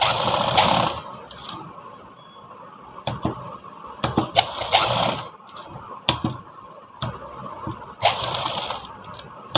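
A sewing machine stitches blouse pieces in several short bursts of rapid mechanical whirring, close and fairly loud, separated by brief pauses.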